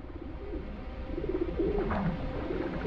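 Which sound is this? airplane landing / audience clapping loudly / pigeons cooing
pigeons cooing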